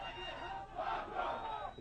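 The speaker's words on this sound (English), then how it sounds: "The fans are cheering their warrior on" A fight crowd cheers on a bloodied fighter pinned on the bottom of a mixed martial arts bout, a steady roar of shouting voices that swells briefly and stays fairly faint.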